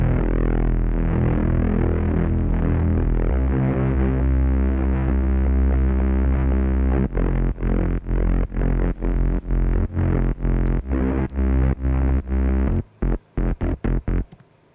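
A loud, muffled, distorted synth sustains thick low tones with reverb, then breaks into a steady run of pulsing chopped notes that stutter near the end.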